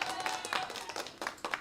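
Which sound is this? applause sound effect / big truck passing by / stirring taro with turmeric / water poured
applause sound effect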